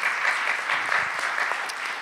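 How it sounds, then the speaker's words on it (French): Audience applause at an animation-school funding event, steady and dense clapping filling the short stretch without speech. "j'ai coupé les applaudissements"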